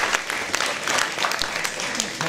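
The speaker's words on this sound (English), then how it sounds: "Give Michelle McBeam a round of applause because she does a wonderful job" Applause from an audience at a welcoming ceremony, a steady dense patter of clapping throughout, fairly close and full, with a few voices underneath.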